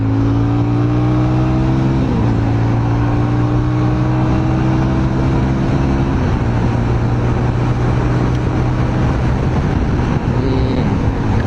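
A motorbike engine revs as the rider opens the throttle, a loud, continuous drone close by whose pitch steps up and down in stages across the clip.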